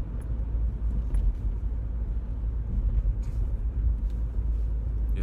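A car driving along a road heard from inside the cabin, a steady low engine and road rumble with faint ticks and no talk.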